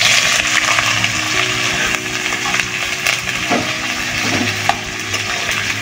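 Chopped onions sizzle and crackle in hot oil in a home kitchen pan, a loud continuous fry close at hand with occasional stirring scrapes.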